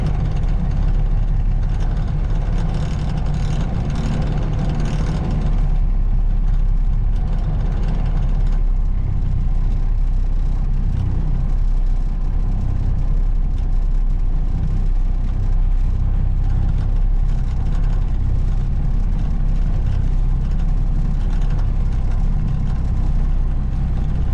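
An old truck engine runs steadily after a transmission swap, a close, loud, rumbling drone that holds an even idle throughout, with a slight shift in tone a few seconds in.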